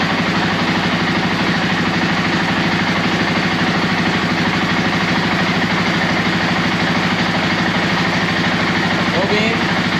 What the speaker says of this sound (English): You do need to have the bike running to check this stuff.